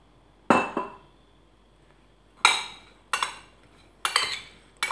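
Utensil clinking against a bowl while oil is mixed into a chicken marinade, a handful of sharp separate clinks and taps spaced irregularly over a quiet background, close by, with no talk.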